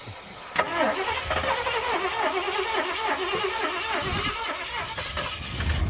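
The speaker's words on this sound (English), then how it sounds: "You rev up the engine, hold a rag over the intake" A tired drag-racing car's engine, its carburetor being coaxed while a rag is held over the intake, runs loudly and steadily close by, its revs rising and falling without letup, a sharp thump near the start.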